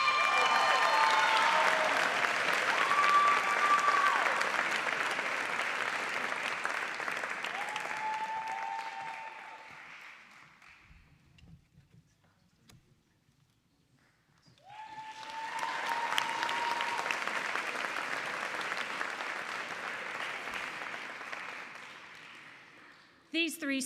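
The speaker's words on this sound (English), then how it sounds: "Let's give one more round of applause for Herman." Sustained applause from an audience at a school-district education honors ceremony, loud and dense for about ten seconds, dying away to near silence, then a second strong burst of clapping that carries on until the end.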